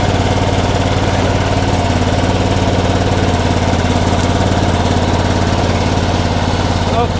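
A 2001 Honda Rincon ATV engine runs rough on choke, a loud, close, steady rumbling idle with a pulsing uneven beat throughout.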